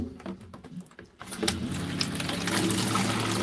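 Water is poured into a sailboat's bilge, starting with scattered splashes and drips, then becoming a steady, fairly loud rush of flowing water that continues to the end.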